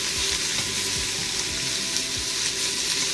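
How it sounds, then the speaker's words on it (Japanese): Pork sizzles and fries steadily in a pan for a stir-fry with cabbage, a continuous hiss with occasional stirring scrapes and no talking. "お肉をこっちの方で焼きながら"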